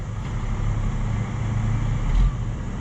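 Steady engine and road rumble from inside a vehicle driving in a convoy of three semis and three service trucks, a continuous low drone with a brief swell near the end.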